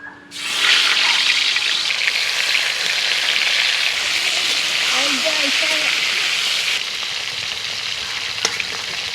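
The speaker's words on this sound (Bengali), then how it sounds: "শোল মাছগুলো ভেজে নেব।" Snakehead fish fry in mustard oil in a kadai for a village meal, giving a loud, steady, close sizzle that hardly changes, with faint clinks near the end.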